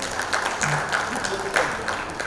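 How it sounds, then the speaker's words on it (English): An audience at a marketing and brand conclave applauds a speaker, producing a steady wash of moderate clapping through the whole short stretch with some voices mixed in. "Big round of applause for Murali."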